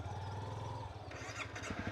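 Motorcycle engine idling close by as a bike is parked on a roadside stop, a steady low throb that shifts and sputters toward the end.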